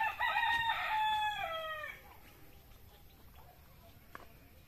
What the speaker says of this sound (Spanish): Y ahí viene un gallo.